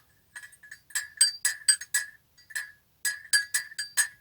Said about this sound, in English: put it in your teacup and listen to the tinkle